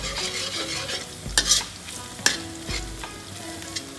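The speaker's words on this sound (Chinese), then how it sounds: "鱼已经炸好了，锅也烧了，现在来炒蒜头先。" Garlic stir-frying in a hot wok gives a steady, loud sizzle, broken by a few sharp scrapes and clanks as the spatula tosses it.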